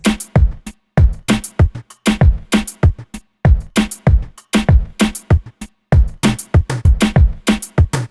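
A BeatMap plugin drum pattern with an LFO-modulated kick and percussion: punchy, evenly spaced kick hits with bright percussive transients in a steady, slightly varying loop, loud and dry, with no voices.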